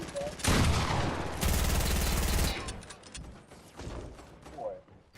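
Bursts of rapid gunfire in a 1v1 video game match, loud dense volleys that swell and cut off abruptly, followed by scattered fainter shots and thumps.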